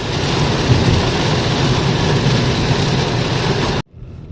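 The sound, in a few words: heavy pouring rain on the road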